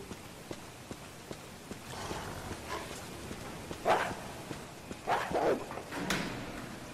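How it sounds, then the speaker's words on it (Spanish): Dogs bark in Resident Evil HD: a few faint, distant yelps cut through a quiet game background of soft ticking and footfall-like thumps. "Ahí no había perros antes."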